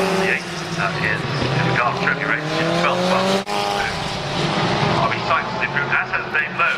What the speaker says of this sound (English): There's a spin from the 25 machine, which was Philip Walker.